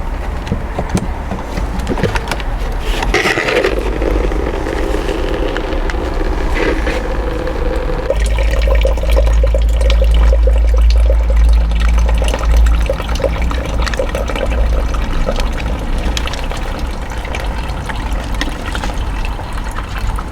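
Water steadily draining and gushing out of a concrete pizza oven mould, a loud continuous trickling wash with a low rumble that carries on for twenty seconds without speech.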